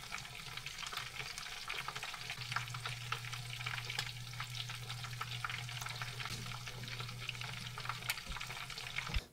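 Food frying in a pan on a home stove, a steady close sizzle with faint stirring scrapes and a low hum underneath, no voices.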